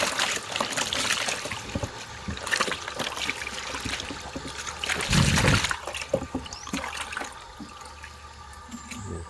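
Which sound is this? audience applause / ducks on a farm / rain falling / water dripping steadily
water dripping steadily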